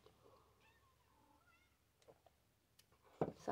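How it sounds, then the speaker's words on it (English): A small domestic female cat in heat meowing indoors, a few drawn-out, wavering meows in the first half, followed by soft quiet clicks and a louder bump near the end; no talking. "Sorry if you hear a cat."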